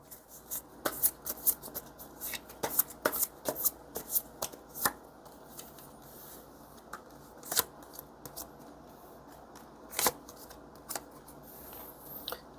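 Tarot cards being shuffled by hand, a quiet, close run of crisp flicks and snaps in irregular bursts, with softer riffling between the sharper slaps.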